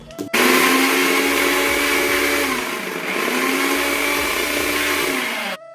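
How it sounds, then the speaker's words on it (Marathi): A mixer grinder grinding coriander, fine salt, ajwain, cumin and white sesame: a loud, steady motor whir that starts abruptly, dips briefly in pitch midway, and cuts off sharply after about five seconds. "बारीक मीठ, ओवा, जिरं, सफेद तीळ वाटण करून घेणार आहोत"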